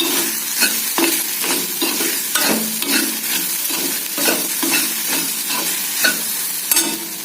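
Okra (ladies finger) is stirred in a pan with rock salt, with soft scraping strokes repeated in a steady rhythm over a gentle, continuous sizzle, close by and with no voices.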